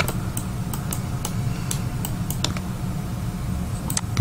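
A computer mouse clicks sparsely and sharply over a low steady background hum, used while modelling a candelabra in Autodesk Maya 2024, with no talking.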